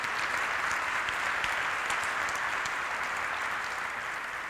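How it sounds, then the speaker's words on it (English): An audience at a Latin dance lecture applauds in a steady, even wash of clapping that holds at a moderate level from start to finish. "You can give them a little applause,"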